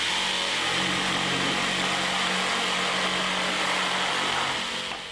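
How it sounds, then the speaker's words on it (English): A Bosch GST 140 jigsaw with orbital action cuts through thick timber, giving a loud, continuous motor-and-blade buzz that holds steady before easing off at the very end. "See what a dramatic difference the orbital action makes to the cutting speed, particularly in thick timber."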